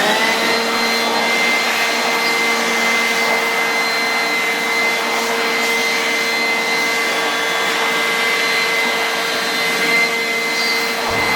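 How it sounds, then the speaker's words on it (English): An air blower runs continuously, blowing dust out of an LED mosquito trap, a loud, steady whooshing roar with a whining tonal hum that cuts off abruptly at the end. "we're going to try and blow some dirt or dust out of it"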